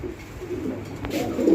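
Fancy pigeons at a farm coo softly in a couple of low, rounded calls, fairly quiet and close against light background noise.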